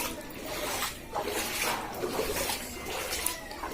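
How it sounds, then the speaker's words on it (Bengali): Floodwater spreading over a road around a house's main gate, a continuous rushing, sloshing wash of moving water heard close by, with no voices. "চারিদিক জলে ভরে গেছে।"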